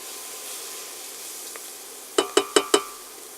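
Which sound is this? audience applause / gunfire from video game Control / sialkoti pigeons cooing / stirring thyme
stirring thyme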